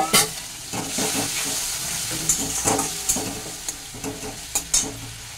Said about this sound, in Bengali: এবার এটাকে ভালো করে একটু কষিয়ে নিচ্ছি অল্প জল দিয়ে।